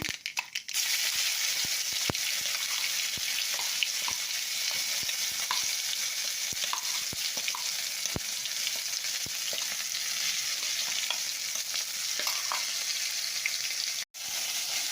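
Ginger-garlic paste frying with onion and tomato in a pan for a pea and potato curry, a continuous close sizzle with scattered crackles and occasional spoon stirring taps throughout.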